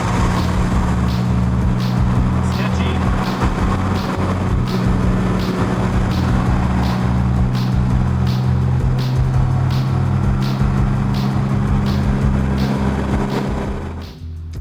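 A 1968 Mustang with a swapped-in BMW engine cruising on the road, its steady low drone and tire roar continuing for several seconds before fading near the end, with no talking.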